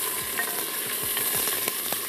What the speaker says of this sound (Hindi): सिर्फ प्याज को हमने सुर्ख किया और शामिल कर दी चिकन।